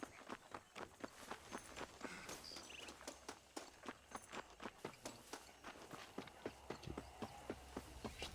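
Horse hooves clip-clop at a steady, brisk gait through most of the stretch in Red Dead Redemption on Switch, each fairly close footfall ringing out sharply over a faint low ambient bed.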